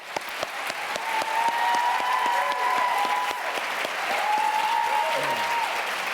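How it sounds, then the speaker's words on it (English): Audience applause for two candidates at a state attorney general debate, a broad sustained round of clapping from a crowd, even and full for several seconds. "I think this is one time when we ought to just give them both a real round of applause."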